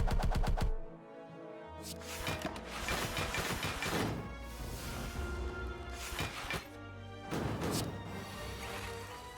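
A barrage attack in the card game Slay the Spire fires as a burst of rapid mechanical clicking and rattling strikes over a low musical backdrop, with heavier hits at the start and again near the end.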